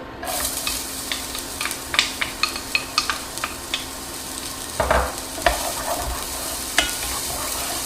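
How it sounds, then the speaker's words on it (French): Steady sizzle of onion pieces frying in olive oil, with occasional stirring clicks and scrapes in the pan, close and moderately loud. "J'ai mis à l'intérieur un petit peu d'huile d'olive et je vais maintenant verser les morceaux d'oignon."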